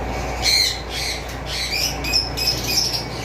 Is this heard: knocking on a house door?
no